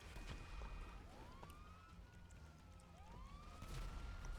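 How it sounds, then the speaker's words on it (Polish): A police car siren in GTA 5 Online wails with rising and falling sweeps over a steady rumbling background, moderately loud, with no voices. "Dobra, mam radiowóz."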